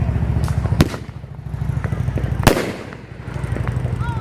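A 500 gram Dominator Devil's Fury firework cake goes off outdoors with sharp cracks and crackling bursts over a steady low rumble, with two especially loud reports standing out.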